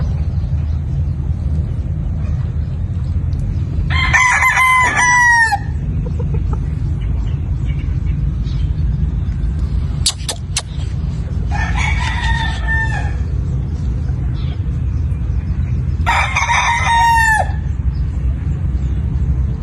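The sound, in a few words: rooster crowing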